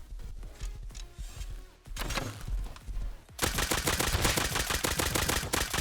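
Gunfire in the survival game Rust, a few scattered shots at first, then a dense rapid automatic burst that keeps rattling loudly to the end, with no voices over it.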